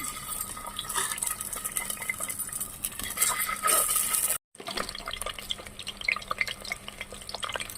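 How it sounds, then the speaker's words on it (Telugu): Boiled eggs frying in oil in a pan, with a steady close hiss and sizzle and scattered clinks of a utensil against the metal, broken by a brief cut before the frying resumes. "ఇప్పుడు ఆయిల్ వేసుకోవాలండి. ఎగ్స్ వేసుకోవాలి ఇందులో."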